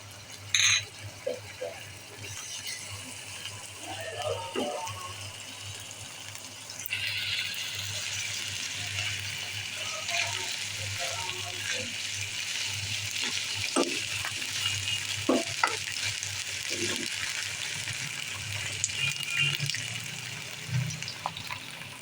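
Onion with ginger and garlic paste frying in a wok, a continuous hiss of sizzling broken by intermittent scrapes and clatters of stirring, with brief bits of quiet talk.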